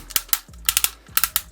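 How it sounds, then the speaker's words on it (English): The ratcheting joint of a Transformers Animated Voyager Class Bulkhead toy gives small, sharp plastic clicks in three quick bursts of two or three clicks each, close and fairly quiet. "ratchet in and out"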